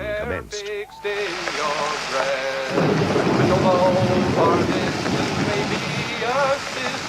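A violent storm of rain in a radio play set on a narrow country lane, a dense, loud, steady roar of downpour and wind that swells up and fills the scene, with a voice speaking briefly over it at the start.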